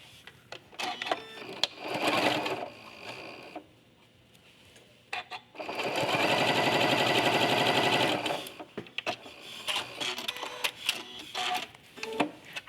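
A sewing machine stitches quilt binding in bursts, a close rapid mechanical whirr in two main runs with handling noises and pauses between.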